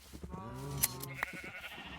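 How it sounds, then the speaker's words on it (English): Minecraft sheep bleat in a pen, a single wavering, nasal baa that rises and holds for about a second, with a couple of short game clicks around it. "pen full of naked sheep"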